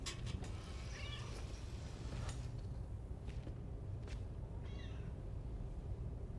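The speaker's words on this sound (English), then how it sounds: "Here, cat." A cat meows in the video game Death Stranding 2, a few short mewing calls over a steady low ambient game background with faint footsteps.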